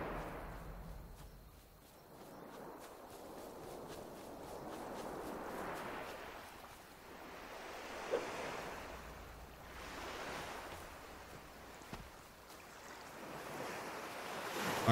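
Ocean waves roll onto a beach in the survival game Towers of Aghasba, each swell rising and falling in a slow rhythm every few seconds, steady and moderately loud with wind, no voices.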